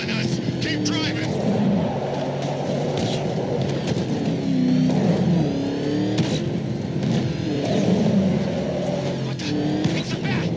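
A car engine drones and revs steadily during a chase in Batman Arkham Knight, with pitch rising and falling in repeated surges, close and continuous beneath game voices talking.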